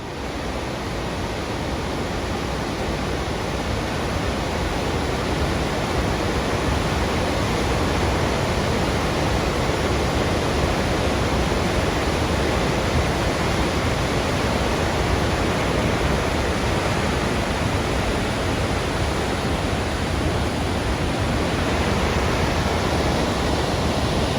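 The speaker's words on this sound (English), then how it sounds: "Just an unbelievably powerful waterfall." Faxi waterfall in Iceland in powerful flow, a steady, dense roar of falling water filling the whole clip at close range, unchanging and without voices.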